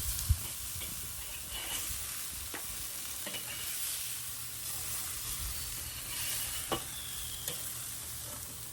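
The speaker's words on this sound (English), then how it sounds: "About a minute down, give these a flip to get color on the other side." Burgers sizzle and fry over coals on a Weber kettle grill, a steady close hiss with a few sharp pops and spatula clicks scattered through.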